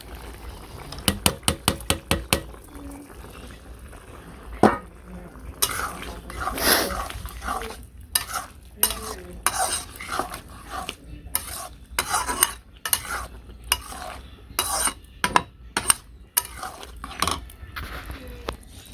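A spoon stirs fish curry with ginger and vegetables in a pot in a Bangladeshi village kitchen. Repeated sharp metallic clinks and scrapes of the spoon ring out over a low bubbling simmer.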